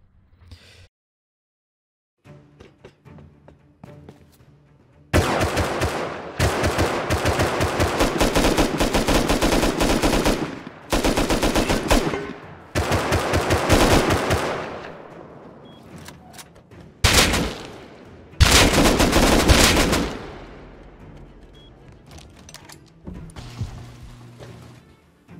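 Explosive-ammo gunfire in the survival game Rust, loud sustained bursts of rapid automatic shots in several long volleys with short gaps, ending with fainter distant shooting.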